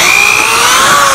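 A portable power drill boring into a board gives a loud, steady, close-up motor whine that holds without pause for just over a second.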